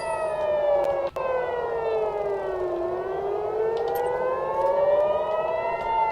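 A loud, sustained siren wails steadily, its pitch sinking and then climbing again in one slow cycle, with no talk over it.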